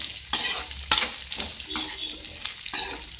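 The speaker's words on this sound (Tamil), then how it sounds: "முருங்கைக்காயை சேர்த்து நல்லா கிளறி" Drumstick pieces are stirred into sautéed onions in a pan, giving a series of scraping, clattering stirs over a constant close sizzle, with several distinct strokes spread across the moment.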